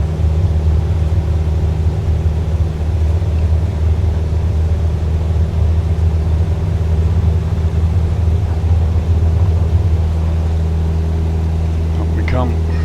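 A bush plane in Botswana rolls down the runway on its takeoff run, its engine a loud, steady droning hum with a constant low tone all the way through, while a voice talks over it.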